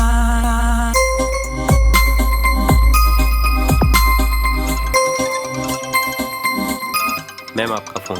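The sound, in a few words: phone ringing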